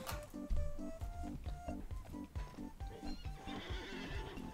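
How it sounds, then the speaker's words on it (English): Horses in Alicia Online whinny and neigh over a steady clip-clop of hooves and a looping game tune, fairly close and loud throughout. "Look how pretty these horses are,"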